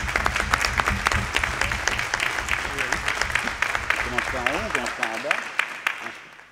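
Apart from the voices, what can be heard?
municipal council applauding elected deputies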